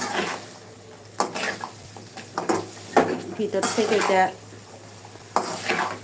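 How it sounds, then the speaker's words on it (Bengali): Garlic pickle is stirred in a kadai over low heat, giving a soft sizzle with intermittent scrapes and clinks of the spoon against the pan while someone talks over it. "যাতে পুড়ে না যায় এটাকে আমি নাড়াচাড়ার মধ্যে রাখবো"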